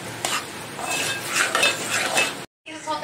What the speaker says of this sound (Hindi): पहले रवे को अच्छे से भून लेंगे हम, थोड़ा सा ब्राउन हो जाएगा